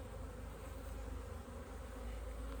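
Honey bees buzzing densely on a hive frame, a steady close-up drone that holds at an even level throughout with no voices.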